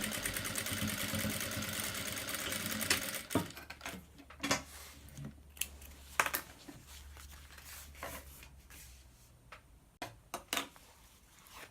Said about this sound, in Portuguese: E costurar as 3 partes de uma vez. Costura de 1 centímetro.